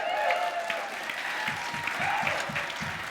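An audience claps and cheers at a live stage show, steady dense applause with a few bright whoops rising over it, loud and continuous.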